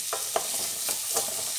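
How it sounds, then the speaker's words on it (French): Pumpkin stirred in a saucepan while it browns, giving four or five soft scraping strokes at an even, unhurried pace over a faint steady sizzle. "Il faut mélanger pour éviter que ça colle"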